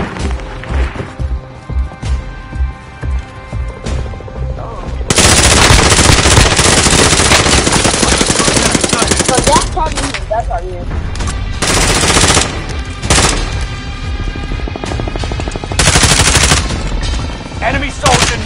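Sustained machine gun fire in a military shooter video game, loud and continuous bursts with brief pauses, alongside crashes and impacts, with players talking at times over the gunfire.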